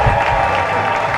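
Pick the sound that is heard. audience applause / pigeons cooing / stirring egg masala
audience applause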